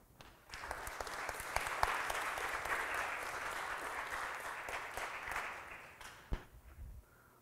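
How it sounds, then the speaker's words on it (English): A room of people at a summer music recital applauds trivia challenge winners; clapping builds quickly, holds steady with distinct sharp claps near the front, then tapers off and fades toward the end. "Let's have a round of applause for our entire Trivia Challenge winners."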